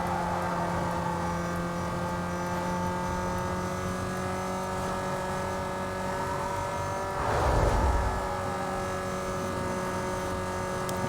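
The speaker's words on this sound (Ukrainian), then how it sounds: "двигун гуде." Car engine hum in the racing game Need for Speed Most Wanted, a steady droning tone with layered harmonics that swells briefly in the middle, running alone without talk.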